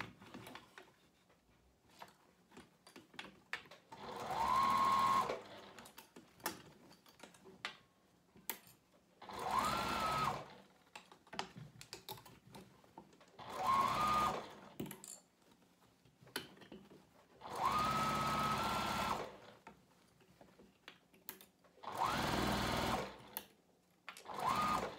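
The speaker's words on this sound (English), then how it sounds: "what I'm going to do now is just go and stitch all the way around the pouch" A sewing machine stitches around a foldover pouch in five separate bursts of close, steady whirring, with quiet handling clicks and pauses between them.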